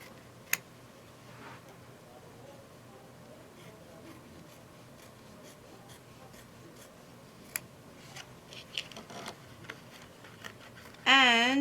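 Scissors snip and rub through two layers of quilting fabric for an in-the-hoop appliqué placemat, giving soft, scattered cuts and brief clicks close by, with a short louder burst at the end.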